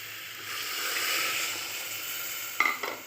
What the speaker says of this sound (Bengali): আমার কষানো হয়ে গেছে, আমি এবারে জল ঢেলে দেব